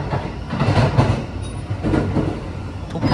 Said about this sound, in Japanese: 列車今大見塩津駅を通過してます